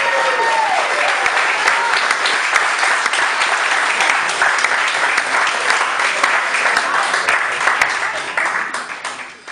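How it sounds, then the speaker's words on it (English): A comedy club audience at Scotts claps and cheers in a dense, steady wave of applause that holds strong and then trails off at the end. "Give a round of applause."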